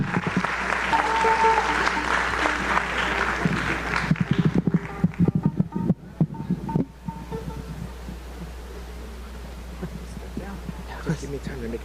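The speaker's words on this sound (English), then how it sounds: "Would you give him a round of applause as he makes his way up?" Audience applause at a winter music festival concert, a dense sustained clapping from a large crowd that thins into scattered claps around the middle, then gives way to quieter room sound.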